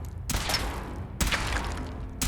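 Weapon fire in Fallout 4, two loud broadband bursts about a second apart with a dense sustained wash between them, followed by the start of a third.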